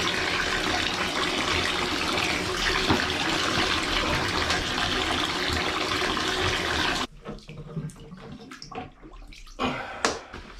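Water gushes steadily from a tap into a tub for several seconds, then cuts off, leaving splashing and sloshing as a down quilt is rinsed and moved through the water.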